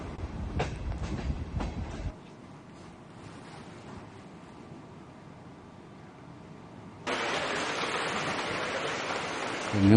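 A train carrying a presidential delegation from Poland to Ukraine rumbles along with steady rail noise, loud at first, settling into a lower hum, then swelling into a bright broadband rush for the last few seconds; no voices.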